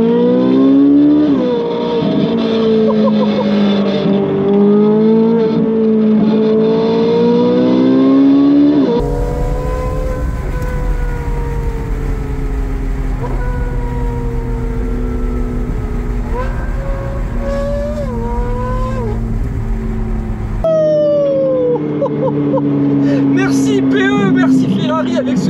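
Loud, close engine note from a Ferrari 458 Speciale with an IPE exhaust, held at a steady rumbling idle and rising into repeated revs, pitch climbing and falling, ending on a sharper high-revving howl with crackles.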